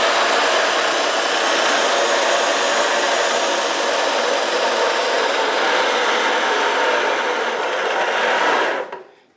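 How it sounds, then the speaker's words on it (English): A Dewalt D24000 tile saw with a very old motor runs with a loud, steady roaring whir close by, then cuts off and winds down abruptly near the end. "I'm going to turn this on. It's going to be so noisy."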